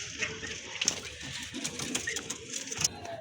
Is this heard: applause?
no